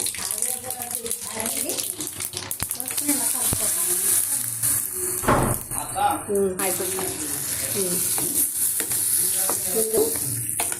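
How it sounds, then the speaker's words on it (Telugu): A spice tempering with turmeric and asafoetida is stirred into cucumber and curd chutney, giving steady wet mixing and scraping with a brief sizzle, while a voice talks faintly underneath. "పోపు వేసిన తర్వాత ఇందులో కలుపుకోవడం"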